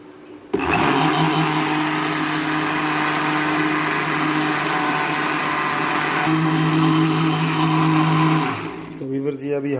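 An electric blender grinds egg, oil and powdered sugar in its jug, starting abruptly with a loud steady whir and motor hum that shifts pitch briefly partway through, then winds down and stops near the end.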